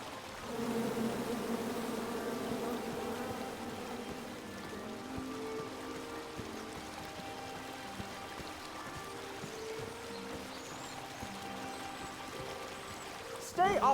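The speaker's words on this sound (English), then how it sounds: "Come at me, bees!" Bees in the King's Quest video game buzz in a steady droning swarm that sits low and fairly faint under light game sounds, with a brief sharp noise at the very end.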